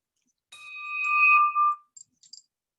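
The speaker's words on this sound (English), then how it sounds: "Sue Bloom and Robin Kerner are ringing the bell for the Boys and Girls Club" A hand bell is rung once for a Boys and Girls Club appeal, a clear, bright ring that sustains for about a second, then a few small metallic taps.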